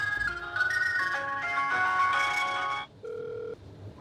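Ringback tone while placing a phone call, heard as a melodic electronic jingle for about three seconds that gives way to a steady, plain tone, alone and moderately loud.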